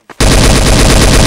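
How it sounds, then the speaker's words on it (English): Dense, loud automatic gunfire in the game Garry's Mod, a sustained rapid burst that starts abruptly after a brief quiet moment and continues without letup. "Why is someone shooting me?"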